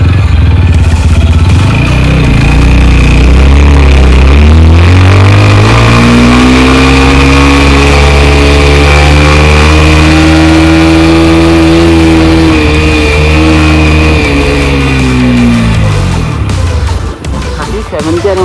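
A 2023 TVS Apache RTR 160 4V motorcycle accelerates in second gear on sandy ground, its engine note rising sharply, then holding a loud, steady rev before easing off near the end.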